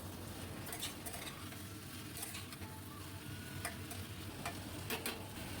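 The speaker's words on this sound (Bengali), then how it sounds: "এবার সবজিগুলোকে খুব ভালো করে ভাজতে থাকবো।" Papaya, potato and tomato frying in a pan with slit green chilli, a faint, steady sizzle with occasional light ticks of a spoon against the pan.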